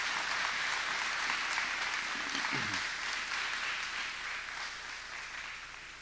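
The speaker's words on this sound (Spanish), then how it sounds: "¿Cuántos le dan un fuerte aplauso al Señor por eso?" Church congregation at a Pentecostal service applauds, a steady wash of clapping that slowly fades, with a faint low voice briefly audible partway through.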